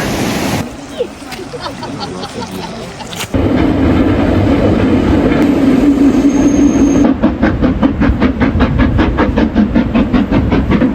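The Hogwarts Express steam train passes by in Scotland, a loud, close rumble with rhythmic clickety-clack of wheels over rail joints and a hissing roar that grows and then settles into steady repeated clacks.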